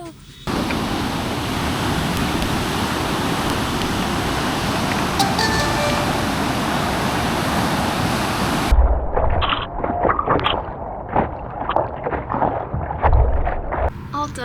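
Ocean surf rushes and churns during a surfing session, a loud continuous wash with wind buffeting the microphone, then giving way to choppier splashes and lapping water.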